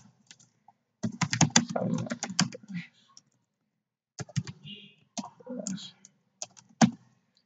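Keystrokes on a computer keyboard come in two quick bursts of rapid clicking separated by a short pause, close and fairly crisp in an otherwise quiet room.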